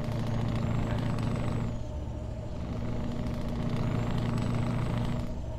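A truck in Euro Truck Simulator 2 with ProMods on a winter career drive holds a deep, steady engine rumble, with a brief higher hiss or whine rising twice over it, and no voices.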